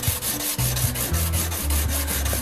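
Tungsten carbide lathe tool, for a small 9-inch lathe, being sharpened by hand, giving a steady rhythmic rubbing and grinding with repeated strokes, close and continuous without talk.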